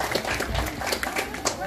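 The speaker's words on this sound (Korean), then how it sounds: "여러분들 그 뜨거운 박수로 한번 그 환호해 주시기 바랍니다." A festival audience at a Baeksan wheat landscape festival claps steadily, a dense, even patter of many hands that holds for the whole short stretch, with a voice over a loudspeaker mixed in.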